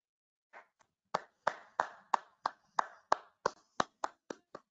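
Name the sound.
virtual clapping by webinar participants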